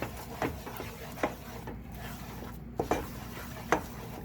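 Almond flour, baking powder and garlic powder being stirred together in a bowl for low-carb beef empanada dough, with soft scraping and a few light clinks of the utensil against the bowl at uneven intervals.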